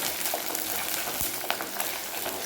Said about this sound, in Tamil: மூணு பெரிய சைஸில் இருக்க பூண்டை தோல் எடுத்துகிட்டு வச்சுருக்கேன் அதையுமே உள்ளார சேர்த்து நல்லாவே வதக்கி விட்டுக்கலாம்